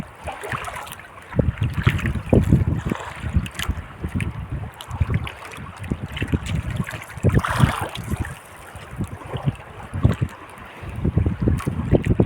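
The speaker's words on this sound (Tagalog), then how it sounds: "Yan, malakas na yung hangin." Strong wind at sea roars and buffets the microphone in gusts, with choppy water and boat noise underneath, loud and continuous with no talking.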